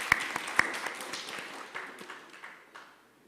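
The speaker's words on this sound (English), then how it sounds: "just wanted to start off really with a round of applause for Purple Vest" An audience at a panel on disability and accessibility applauds, a scattered patter of claps with a few sharp nearer ones that thins out and fades by the end.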